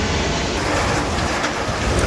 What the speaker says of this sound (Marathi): पावसाची जोरदार बॅटिंग चालू आहे.